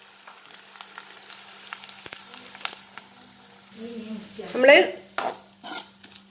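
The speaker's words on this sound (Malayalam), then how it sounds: "ആ തേങ്ങ നമുക്കിതിലേക്ക് ചേർത്ത് ഒന്ന് വറുത്തെടുക്കാം." Grated coconut toasting in a pan, a quiet low sizzle broken by sharp spoon clicks and scrapes against the metal, building to a louder burst of stirring toward the end, with a brief word spoken.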